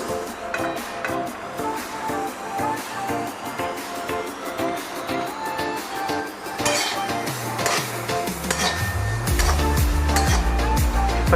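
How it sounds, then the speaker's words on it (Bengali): Sesame seeds dry roasting in a kadai over a low-medium flame while being stirred continuously, making a rhythmic scraping and rattling of the spoon against the pan that grows louder toward the end. "লো মিডিয়াম ফ্লেমে ভালো করে তিলগুলোকে একটু রোস্ট করে নেব"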